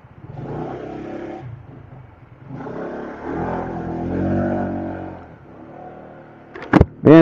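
Honda PCX160 ABS scooter carrying a passenger, its engine rising in a drawn-out whirring acceleration that swells, dips and builds again, followed by a couple of sharp louder bursts near the end.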